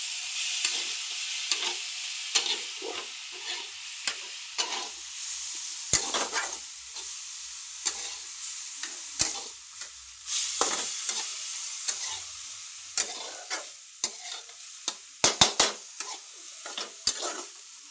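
Dill greens stirred with dal frying in a pan, a faint steady sizzle broken by frequent sharp clinks and scrapes of the spoon, close and with no voices.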